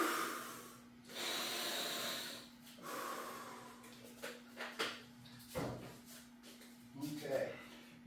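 During a rest in MMA training a person breathes heavily, with deep rhythmic inhales and exhales and a few sharp snorts, close and fairly quiet against a faint steady hum.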